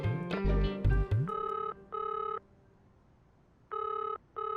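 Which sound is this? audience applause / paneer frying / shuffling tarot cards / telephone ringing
telephone ringing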